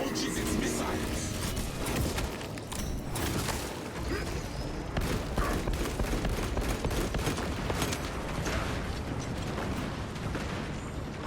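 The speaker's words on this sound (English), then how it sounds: "The Titan launches its missiles." Titan war machine firing a missile salvo in Space Marine, a dense, continuous barrage of rapid mechanical clatter and launches, loud and close throughout, with speech now and then over the volley.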